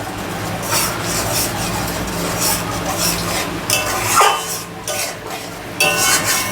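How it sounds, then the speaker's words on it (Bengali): Yogurt and spice paste being stirred in a pan for a Bengali mustard fish dish, a continuous close scraping and rubbing with soft sizzling underneath and a few sharper scrapes near the end, no talking. "দই আর মশলাটা কিছুক্ষণ কষাতে থাকি।"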